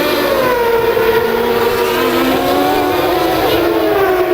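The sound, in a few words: McLaren Formula 1 car of Hakkinen during a pit stop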